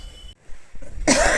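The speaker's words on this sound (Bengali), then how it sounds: "বাপরে বাপ, ভীষণ কাশি, ভীষণ কাশি আসছে।" A person coughs in a short, sharp burst indoors, after a few faint breathy sounds and moments of near silence.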